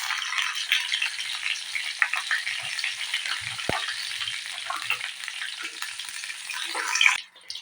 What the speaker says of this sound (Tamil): எண்ணெய் சூடாயிருச்சுங்க. அதில் சின்னதாக பட்டை, கொஞ்சம் சோம்பு போட்டுக்கிறணுங்க.